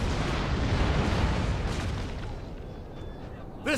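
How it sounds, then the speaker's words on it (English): Cannons fire in the Napoleon Total War battle game, a heavy rumbling boom that decays into a long rolling roar, loud and dense before a brief sharp burst near the end. "Comes another shot from the cannons."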